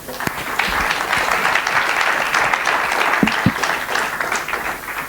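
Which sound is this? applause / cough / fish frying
applause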